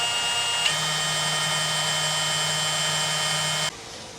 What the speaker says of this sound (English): But I'm gonna go ahead and drill my hole